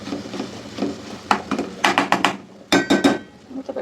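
Metal lid set onto a cooking pot of lentils and tomatoes in a home kitchen, a series of close clattering clinks and knocks in two bursts with faint kitchen background.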